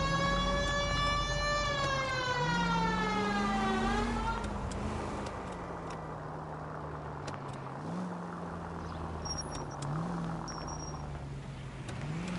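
A police siren in L.A. Noire wails with a rising and falling tone over a car engine's drone, loud and close at first, then fading into the engine rumble as the vehicle drives on.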